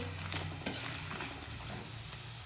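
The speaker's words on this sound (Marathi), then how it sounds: "आता हे सर्व व्यवस्थित मिक्स करते" A spoon stirs cooked rice in a pan with turmeric and a little salt for lemon rice, giving soft scraping and light sizzling with a few sharper clinks of utensil on the pan.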